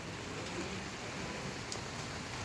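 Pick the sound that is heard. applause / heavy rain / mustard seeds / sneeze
heavy rain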